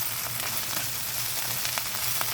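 Ginger garlic paste sizzles steadily in hot oil, a dense, close crackle with small pops and no voices, made while cooking an onion pakoda curry.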